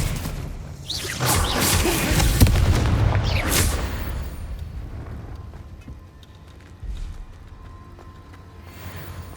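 Confringo blasting spells and other combat magic in Hogwarts Legacy, with a cluster of loud booming blasts and whooshes early on. Then fainter rumbles and a lone thud fade out, with no voices.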